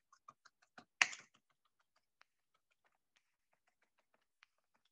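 A knife chops shrimp on a board for gau gee filling, giving a few quick sharp taps, one louder thwack, then sparse faint clicks in a quiet room.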